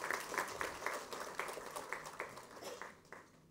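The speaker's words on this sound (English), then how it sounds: "Please give him a round of applause." An audience at an event for private security agencies applauds a Cabinet Minister for Commerce and Industry, with rapid rhythmic hand clapping from a modest crowd at a fair distance, fading by the end.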